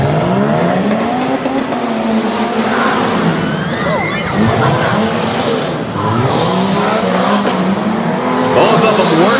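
Off-road trucks race head to head at the 2021 Harrisburg Tuff Truck Grand Championship, engines roaring loud and continuous with tire squeals as a commentator talks over the action.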